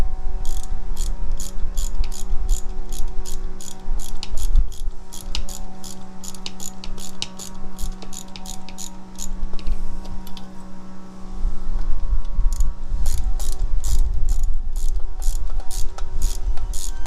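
Ratchet wrench tightening a bolt on a 2020 Harley-Davidson Iron 1200 Sportster motorcycle, rapid loud clicking in two long runs separated by a brief pause, close up with a steady hum behind.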